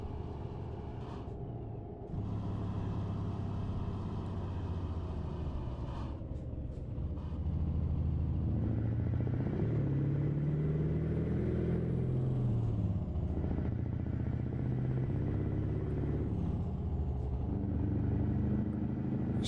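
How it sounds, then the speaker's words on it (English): A heavy truck engine in a driving game rumbles steadily throughout, swelling louder as it revs up partway through, with no talk over it. "the truck itself sounds really nice, but the exhaust brake sounds horrible"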